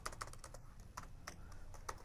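Placeholder text typed on a computer keyboard for an HTML form: quick, light key clicks in an irregular run, close and soft over a low background hum.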